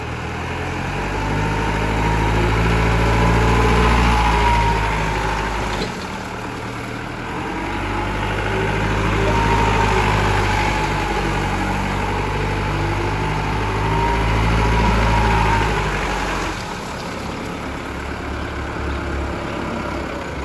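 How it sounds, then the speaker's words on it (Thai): The diesel engine of a Toyota 5FD25 2.5-ton forklift idles steadily with a deep low rumble, briefly dropping in level twice before settling again; no voices. "เป็นเครื่องยนต์ดีเซล"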